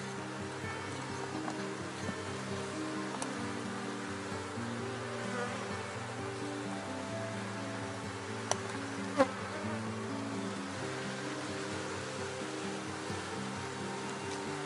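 A honeybee swarm in a hive drones with a steady, dense buzz that holds evenly throughout, with a couple of brief clicks near the end.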